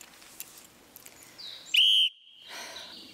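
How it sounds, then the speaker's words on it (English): A shrill, piercing pea whistle blast held steady for about a third of a second, loud and close, between quieter background rustling. "This here is a whistle that I have bought as a kid. It's one of the loudest whistles"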